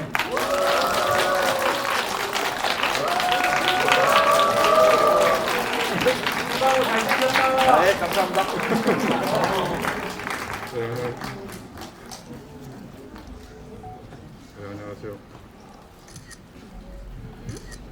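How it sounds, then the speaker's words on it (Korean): A cinema audience at a CGV stage greeting for the film 거미집 claps while voices speak over it at first; the applause thins into scattered claps and fades. "박수 부탁드리겠습니다."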